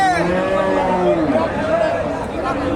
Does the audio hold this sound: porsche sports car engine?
no